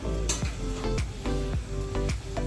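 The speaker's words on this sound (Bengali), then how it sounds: "পোর্কটা এখন আমি মন দিয়ে কষাচ্ছি" Pork sizzling as it is sautéed in a pan with splashes of hot water for pork curry, a constant hiss under rhythmic stirring strokes about every half second, up close.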